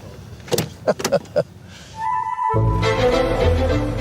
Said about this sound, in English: He's got to take me getting into the car yet again.